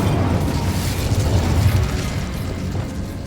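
Incendio, a fire spell in Hogwarts Legacy, erupts in a low, rumbling blast that roars for a moment and then fades, with crackling bursts and no voices over it.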